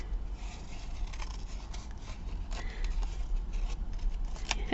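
Sticky scissors snip and rasp repeatedly up close, a dry scraping rhythm of short cuts with no voices.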